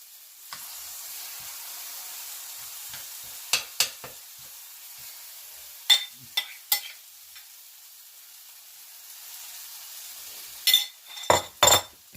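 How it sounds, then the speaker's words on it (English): Spaghetti squash fritters fry in a pan with a soft, even sizzle. A few sharp clinks and scrapes from a utensil break in now and then, with no talking. "I'm just going to let these cook"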